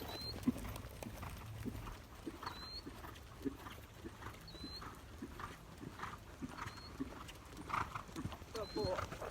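A Spotted Saddle Horse canters, and its soft, rhythmic hoofbeats stay fairly faint and distant while a rider talks over them throughout, with light chirping sounds recurring in the background.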